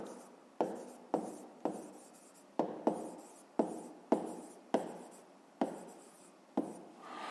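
Close, quiet writing of numbers during a fifth-grade math lesson, with a dozen or so sharp taps, each followed by a brief scratchy stroke, repeating at a fairly steady pace against a faint hiss.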